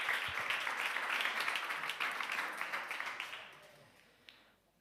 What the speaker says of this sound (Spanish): por favor, recibamos con un fuerte aplauso